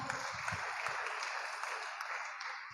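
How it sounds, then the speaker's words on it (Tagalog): A church congregation applauds during a prayer service, a dense continuous wash of many hands clapping that fades slightly at the end, with a faint voice at the start. "Palakpak."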